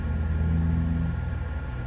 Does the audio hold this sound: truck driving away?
yes